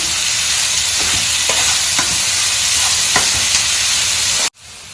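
Onions fry loudly in a pan, a dense sizzle with regular scraping stirs, before the sound cuts off abruptly near the end.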